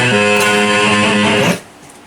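Distorted electric guitar plays a short riff from a song, dense sustained overdriven notes ringing loud for about a second and a half before cutting off abruptly into quiet.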